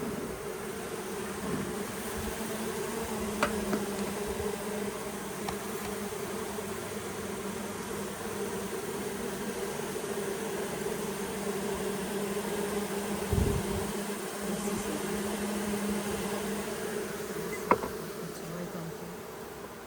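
A honeybee piping inside a hive during an August inspection, a thin, high tone sitting over the continuous hum of the colony, with steady buzzing of many bees throughout and no speech.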